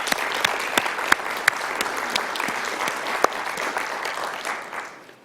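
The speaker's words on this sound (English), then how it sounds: "Let's have a round of applause for them." Sustained applause from an audience at a city summit gathering, dense clapping with a few sharper claps standing out, steady and fairly loud before easing off at the end.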